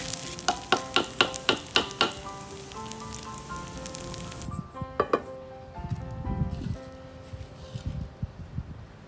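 Chicken rice stir-fried in a pan hisses and sizzles while a spatula taps and scrapes in quick clacks early on, then the frying settles into a softer steady crackle.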